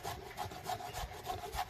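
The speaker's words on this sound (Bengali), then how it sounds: "গাজরটা আমি এই কোরন দিয়ে কুড়ে নেব ঝিরিঝিরি করে" A carrot scraped into fine shreds on a hand grater in a village kitchen, quick rhythmic rasping strokes, close and fairly quiet, with no talk.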